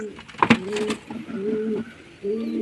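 A male and a female pigeon from an old home-kept pair coo in low, rolling, repeated phrases close by, with a brief flutter-like burst partway through.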